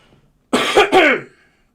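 A single sharp throat-clearing cough, two quick harsh bursts close to the microphone, breaking off a live-streamed talk and followed by quiet.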